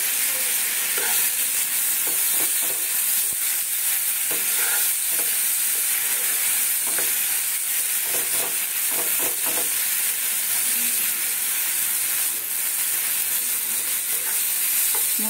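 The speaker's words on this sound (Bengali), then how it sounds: "মশলা ভাজা হয়ে গেছে" Spice masala frying and being stirred in a pan for a banana-potato kofta curry, a steady close sizzle with scraping stirs throughout and no talking.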